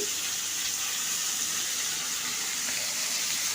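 Water streams steadily from the outlet of a kitchen RO purifier, a continuous broadband hiss and splash that holds at an even level throughout, with no voices.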